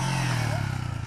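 A motorcycle engine revs hard during a wheelie, a loud, close, pulsing throaty drone that holds steady through the short burst, with no talking.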